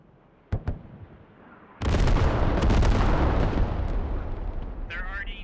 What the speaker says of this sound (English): Call for artillery directly on top of the hab.